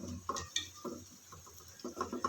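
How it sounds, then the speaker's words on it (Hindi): Fried mutton koftas are stirred into a cooking masala with soft scraping and clinks of a spoon against the pan, in a few irregular strokes, close and quiet. "इनको हम थोड़ी देर इस तरह मसाले में पकाएंगे"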